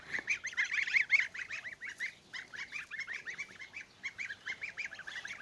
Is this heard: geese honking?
yes